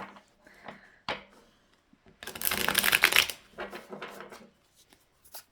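Tarot cards are shuffled in several quick riffling bursts, crisp and close, with short pauses between them and no talking.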